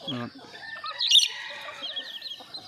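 Junglefowl cluck and chirp in short, close calls in a backyard, with a brief voice-like sound at the start.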